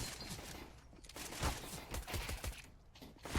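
Pistol-round gunfire in a first-person shooter match comes as a quick, faint series of sharp shots in uneven bursts, with no talking.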